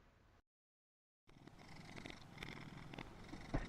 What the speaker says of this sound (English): Why do cats purr?